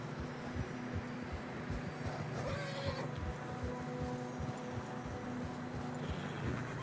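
In the video game Red Dead Redemption 2, horses trudge through deep fresh snow, their muffled hoof steps plodding unevenly at a distance over a low, steady wind-like ambience, faint throughout.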